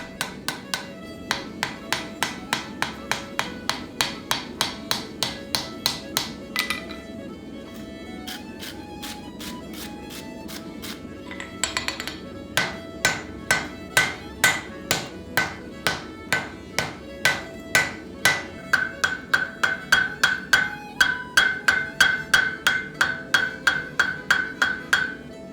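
Hammer blows strike white-yellow hot steel as a folded axe is forge-welded, a long run of sharp ringing hits in steady rhythm, briefly pausing midway before resuming with heavier, more resonant strikes, close and loud.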